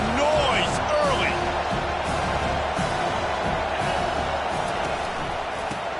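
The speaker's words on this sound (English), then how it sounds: "This crowd bringing the energy and noise early." Stadium crowd noise in NCAA 25 college football, a steady roar of cheering fans with a few whistles, under what sounds like a commentator's voice.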